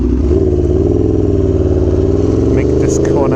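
An Aprilia Tuono V4 Factory motorcycle engine roars loud and close under hard acceleration, its pitch climbing steadily during a power wheelie, with wind rush over it.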